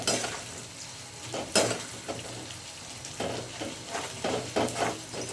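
Flattened rice (hand-pounded aman rice chira) dry-frying with salt in a pan, soft scraping stirs and light rattling of the flakes, with a few sharper clinks of the utensil against the pan.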